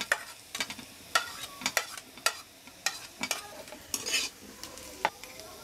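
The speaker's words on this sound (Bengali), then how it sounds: "এখন ভেজে রাখা সব বাকি সবজিগুলো এর মধ্যে দিয়ে মিশিয়ে দিচ্ছি।" A spoon clatters and scrapes through fried vegetables as they are mixed into a pot for vegetable biryani. The stirring strikes come in irregular bursts over a faint, steady sizzle, with no voices.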